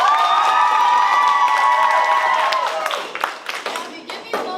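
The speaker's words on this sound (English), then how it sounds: "Anyone who believes the defendant is innocent, I'd like you to applaud now." A theater audience at a stage production claps and cheers, with bright sustained shouting tones at first that give way to scattered, uneven clapping and crowd noise.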